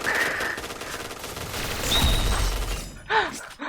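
MP9 submachine gun fire in the shooter game Point Blank: rapid, rattling bursts of shots that are fairly quiet in the mix, followed by a few sharp metallic clinks near the end, with a voice speaking over the action.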